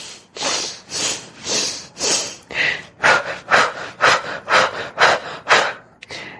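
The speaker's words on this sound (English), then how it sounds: "You can also do the fire breath. This energized breathing technique increases vitality and helps to release emotional blockages. So it's a really rapid breath," Rapid fire breath, an energizing breathing technique, heard as about eleven forceful, evenly spaced breaths close to the listener, each a short rushing puff with brief gaps between, no talking.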